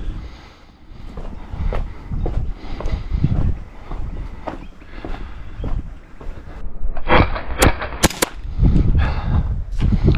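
Several sharp gas-blowback shots from a We Tech 1911 gel blaster pistol, scattered irregularly over steady outdoor background noise, with a tight burst of louder, closer cracks near the end.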